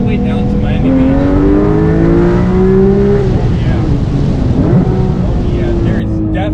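A tuned Porsche GT3 Touring pulls hard while merging onto a freeway, its engine note rising steadily through the revs with strong, continuous roar and wind and road noise, heard from inside the cabin.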